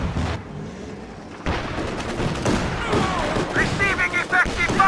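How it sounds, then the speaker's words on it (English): Scattered battlefield gunfire in Company of Heroes 2 with British forces, a few sharp cracks and bursts mixed under shouted voices of soldiers. "Receiving effective fire!"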